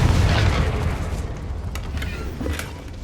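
A Confringo blasting spell goes off in the Hogwarts Legacy video game, a loud booming blast at the start that rolls into a low rumble and fades, with a few sharp crackles trailing after.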